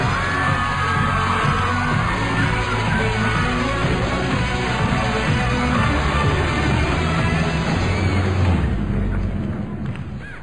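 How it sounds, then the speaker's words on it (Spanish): A dense, loud TV talent-show audience at a Factor X Chile gala yells, whoops and cheers with applause mixed in, sustained without a break and easing slightly at the end. "¡El aplauso para Envy and Jay!"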